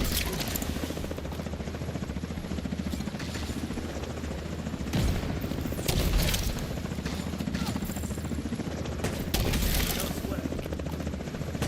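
A helicopter in The Division 2 shooter game drones steadily under bursts of automatic gunfire aimed at it, the fire swelling in clusters near the middle and late stretch.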